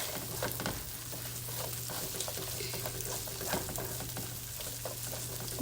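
Garlic green beans sauté in a hot pan, giving a soft, continuous sizzling crackle with scattered pops over a low steady hum, quiet and unbroken throughout.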